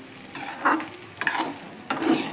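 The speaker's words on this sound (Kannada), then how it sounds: "ಅಲ್ಲಿ ತನಕ ಮಿಕ್ಸ್ ಮಾಡ್ತಾನೆ ಇರ್ಬೇಕು ನೋಡಿರಿ" Egg rice being stirred in a hot pan, with repeated scraping strokes of a spoon over a light sizzle, close up and with no voices.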